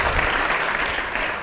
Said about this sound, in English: Can we give Dylan a round of applause?